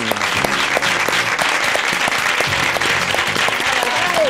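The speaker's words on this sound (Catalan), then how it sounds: "Fort aplaudiment!" Steady, loud applause from a crowd fills the whole moment, with a few faint cheers mixed in.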